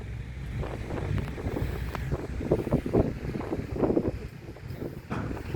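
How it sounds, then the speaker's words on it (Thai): Strong wind gusting outdoors, roaring and buffeting the microphone in uneven surges, loud and continuous with no one speaking. "วันนี้ลมแรงมาก"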